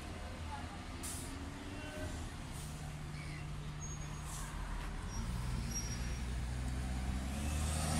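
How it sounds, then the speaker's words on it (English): A MyCiti city bus rumbles past on a busy Cape Town street, low engine drone steady and close with a brief air-brake-like hiss, swelling louder toward the end amid general street noise. "And that's a My City bus."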